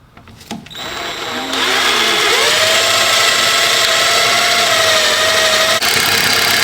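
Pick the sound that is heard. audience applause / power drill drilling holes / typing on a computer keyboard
power drill drilling holes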